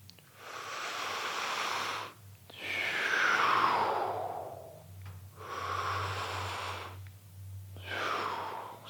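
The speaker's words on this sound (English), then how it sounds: "use my breathing sounds to let them know where I'm at in the space." A person breathes audibly and deliberately during a hands-on bodywork session, with long, airy exhales and inhales alternating in a slow, steady rhythm, close and moderately loud over a low background hum.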